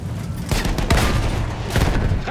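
Gunfire and explosions in the World War I shooter Battlefield 1, with a tank battle in a city: a dense fusillade of shots and booming blasts, loud and close, with a heavy burst near the start and another toward the end.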